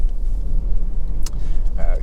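Honda CR-V 2.2 SE diesel 4WD on a road test, with a steady low engine and road rumble heard from inside the cabin and speech over it.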